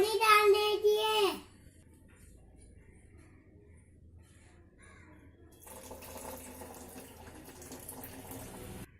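Water is poured in while carrot juice is being made: a soft, steady splashing rush rises after a quiet stretch, following a brief loud crow-like call at the start.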